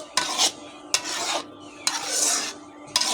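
A semolina and carrot sweet mixture is stirred in a pan, a spoon scraping across the pan in four distinct rasping strokes with short pauses between them.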